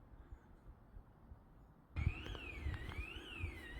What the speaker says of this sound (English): I'm really sorry for the constant whining noise coming from that alarm.